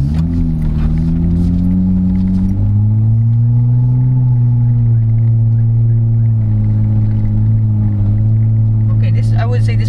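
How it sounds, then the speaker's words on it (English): A deep, loud Borla aftermarket exhaust on a 2018 Jeep Wrangler JK Unlimited drones steadily, rising slightly in pitch as the engine revs, close and constant throughout. "this Borla exhaust is really loud, surprisingly"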